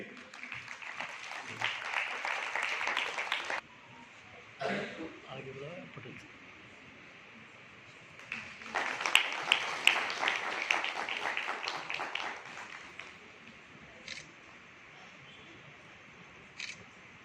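Applause at an award ceremony as a prize is presented to a doctor on stage, bursts of clapping in two long stretches, moderately loud and dense, with quieter gaps and a brief patter between.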